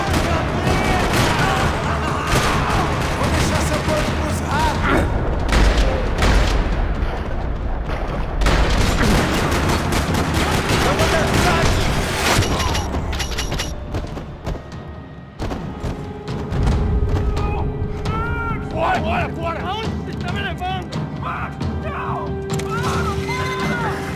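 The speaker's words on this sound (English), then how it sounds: "Another parking lot rattling with gunfire." Sustained gunfire rattles through a parking lot in the Max Payne 3 video game, dense bursts of shots and booms layered with game sound effects over about twenty-four seconds, with a brief lull before the shooting resumes.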